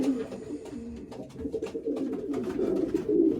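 Pet pigeons or doves, let out to eat and drink, give soft repeated cooing calls close by, with a low warbling rhythm that continues throughout and grows slightly stronger toward the end.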